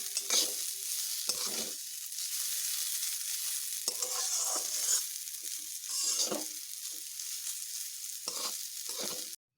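Banana stem fries in a pan under a soft, continuous sizzle, broken by several scraping stirring strokes at irregular intervals, close and fairly quiet.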